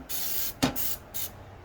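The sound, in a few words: spraying Easy-Off oven cleaner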